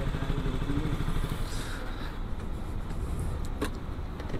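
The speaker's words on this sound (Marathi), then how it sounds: "तर पहिल्याच आपण इकडे आपली गाडी पार्क करूया" A motorcycle is being parked outside a bike accessories shop in Dahisar, Mumbai, its engine running as a loud, rough, close rumble that eases a little toward the end, with a brief clatter near the finish.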